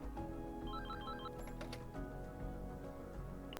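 A phone ringing in the video game Angels With Scaly Wings, a short quiet electronic trilling ring of a few quick repeated tones over a constant background hum.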